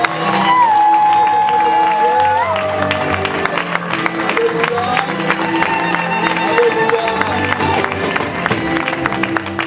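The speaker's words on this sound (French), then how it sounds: "Allez nous accueillir l'homme de Dieu, le pasteur Miko Bachika par les acclamations." A church convention crowd welcomes a pastor with clapping, cheers and scattered shouts, mixed into loud, continuous worship music with sustained keyboard tones throughout.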